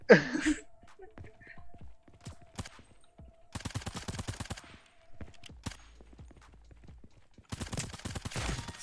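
Sniper rifle shots ring out in a Sabotaj 1v1 match on the Botanik map, fired as sharp repeated cracks in bursts across the clip, with faint footsteps and game noise between them.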